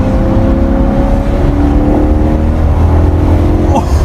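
Maserati GranTurismo S engine pulling hard under acceleration, a steady loud drone of rising harmonics filling the whole span with no break, close and continuous.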